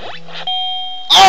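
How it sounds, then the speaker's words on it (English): Round bell from the boxing game Mike Tyson's Punch-Out!!, a single electronic ding with a sustained ringing tone, followed by a sudden loud burst of game noise. "I didn't think the bell was gonna ring"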